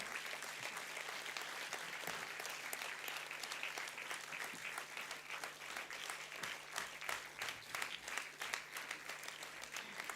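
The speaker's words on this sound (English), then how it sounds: "Come on, keep the applause going." Sustained audience applause at a university convocation ceremony, dense steady clapping from a large crowd filling the hall, continuous at a moderate level with no speech over it.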